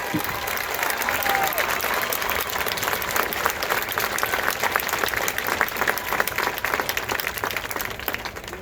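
A crowd applauds the Class 3A marching bands at an MSBA awards ceremony, with dense, steady clapping sustained throughout and scattered voices and cheers mixed in.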